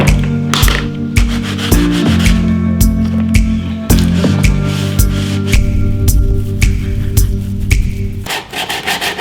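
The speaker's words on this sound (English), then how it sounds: "took the top layer off with a bit of sanding" Steady, close hand sanding on a wooden motorcycle tire shelf, rapid back-and-forth scrubbing strokes with brief pauses and occasional knocks, loud and continuous without talk.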